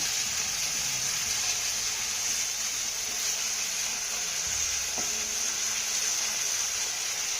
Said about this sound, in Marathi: कांदा ना आपल्याला चांगला मऊसूत होईपर्यंत परतून घ्यायचा आहे